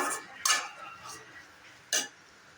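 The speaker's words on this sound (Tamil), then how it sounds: "நல்லா மிக்ஸ் பண்ணிக்கோங்க." A spoon stirs roasted peanuts and sesame into eggplant gravy in a pan, giving soft scraping punctuated by two sharp metallic clinks, close up.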